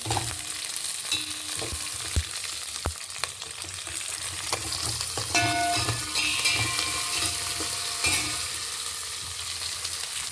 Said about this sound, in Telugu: ఇప్పుడు పచ్చిమిరపకాయలు కొంచెం వేగాయి.